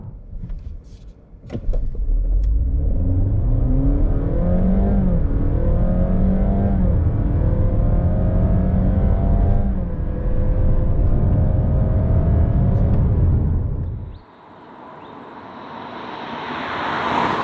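A 2022 Honda HR-V accelerates hard from 0 to 100 km/h, the engine droning loudly with rising pitch through several gear changes, heard from inside the cabin before dropping off and settling into road noise.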